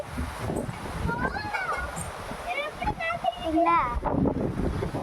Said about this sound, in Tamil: செம்ம காற்று பார்த்தா அந்த சைடு காட்டடிக்குது இந்த சைடு காட்டடிக்குது